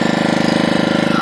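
The engine of a sea fishing boat runs close and loud, a rapid regular chugging throb with a steady pulsing rhythm and no voices.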